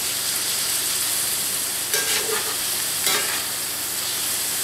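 Onions and cabbage frying in a cast iron skillet give a steady, close, broadband sizzle, with two brief bursts of brighter crackle and spatter partway through.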